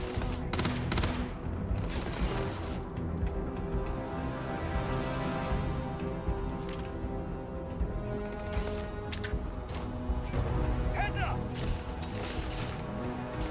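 Rapid gunfire rattles through a Starfield firefight, dense bursts of shots layered over constant game noise, with a few sharper cracks breaking through the steady din.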